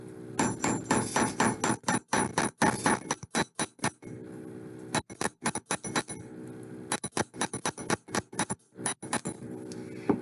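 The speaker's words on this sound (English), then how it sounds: "I'm going to start by hammering around this curve" Chasing hammer striking metal wire around the curve of a paddle earring, a rapid run of sharp ringing metallic blows in bursts with short pauses, close and loud, no voices.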